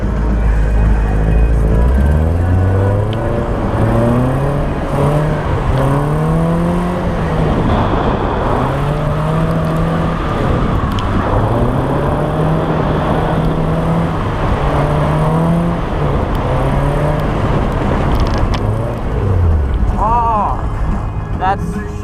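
A car drifts on snow and sheet ice at a winter drifting event in Edmonton. The engine revs loudly and continuously, rising and falling in repeated sweeps as the car slides, with the noise close and dominant throughout.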